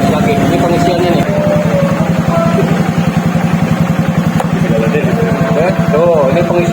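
A Honda Beat carburetor motorcycle engine runs with its battery removed, a close, steady rapid thumping idle that holds throughout while someone talks over it.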